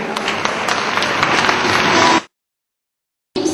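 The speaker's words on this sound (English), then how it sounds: "Let us rise and give a round of applause to thank the Minister as he takes his leave." A standing audience at a World Down Syndrome Day event applauds as the Minister leaves, with steady, loud clapping that cuts off abruptly partway through and resumes briefly at the end.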